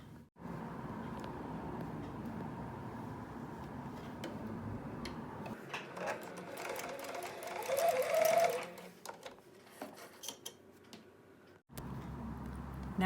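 Sewing machine stitching across fabric bunny ears, a steady fast mechanical ticking that runs alone for several seconds, surges briefly louder, and pauses before starting again.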